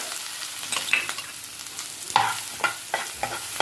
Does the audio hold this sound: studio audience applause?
no